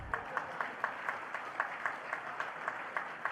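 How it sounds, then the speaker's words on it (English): Applause from the audience at a regional planning assembly event: a steady wash of clapping with evenly spaced sharper claps standing out, moderately quiet and continuous throughout. "Can we clap for that?"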